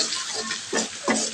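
Spices with turmeric and a little chilli stirred in a cooking pan, a soft sizzle with a few scraping stir strokes close by, no talk.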